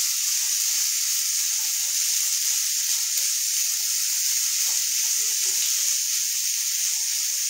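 Tomatoes and onions sautéing in a pan in a home kitchen, giving a steady, even sizzle that holds throughout with no talk.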